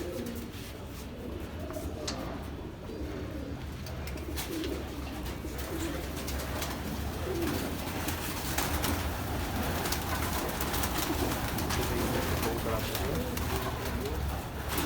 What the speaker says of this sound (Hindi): ये सारे भाई मलबई कबूतर है, पंजाबी कबूतर है